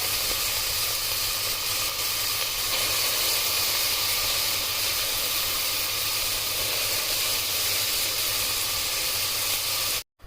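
Ichakida avarekai, peeled hyacinth beans, roasting in a pan, a steady even hiss and sizzle that holds unchanged for about ten seconds before stopping abruptly.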